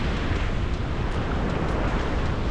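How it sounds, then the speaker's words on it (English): Ocean waves rolling onto a Cornwall beach near Sennen and Gwynver, a steady, loud wash of surf and wind with no talk over it. "lovely waves actually, isn't there?"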